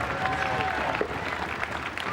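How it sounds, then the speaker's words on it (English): A crowd at a 1996 Mosconi Cup pool match in Essex cheers and applauds steadily throughout, a dense continuous roar with scattered shouts and no distinct stomps standing out. "Stomping the floorboards with glee, this crowd in Essex"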